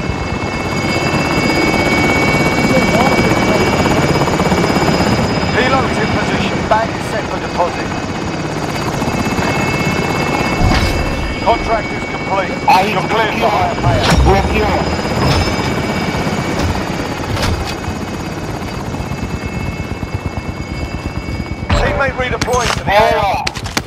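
A helicopter in Call of Duty Warzone thrums loudly and steadily throughout, overlaid with bursts of gunfire and game effects while a player talks over the action.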